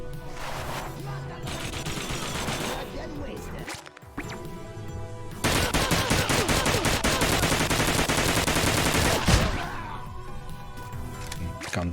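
A gun trap fires in a video game, producing loud sustained bursts of rapid automatic gunfire that surge in the middle stretch and run almost without pause, dense and close.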